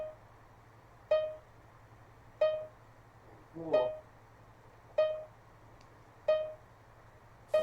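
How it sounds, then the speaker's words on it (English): An alarm beeps at a steady pace in Minecraft, six evenly spaced electronic fire-alarm chirps about a second apart, with a person briefly speaking between them. "The fire alarm is going off."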